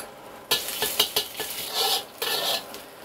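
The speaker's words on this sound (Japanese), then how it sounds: "鍋で香りが出るまで炒めてください。" Minced ginger stir-frying in a pot for chicken and mushroom soup noodles, heard as a spatula scraping and clinking against the pot with a soft sizzle in bursts, close and fairly loud, no talking.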